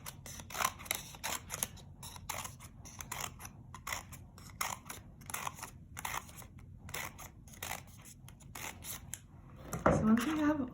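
Scissors snipping strips into a folded paper rectangle for a paper flower craft, a rapid steady series of crisp close cuts, followed by a louder rustle of paper near the end.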